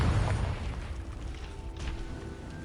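Confringo blasting spell going off in Hogwarts Legacy: a loud, close burst at the start that rumbles into a sustained roaring crackle, with no voices.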